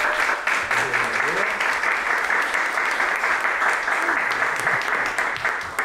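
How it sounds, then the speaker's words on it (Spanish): An audience at a talk applauds strongly, dense continuous clapping throughout with faint voices underneath. "démosles un fuerte aplauso."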